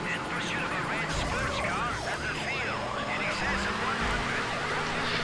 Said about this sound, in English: the police had the British markings and the British siren as well